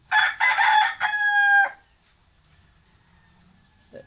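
Rooster crowing on a Philippine farm, one loud close cock-a-doodle-doo with a long drawn final note, followed by quiet and a faint distant cluck.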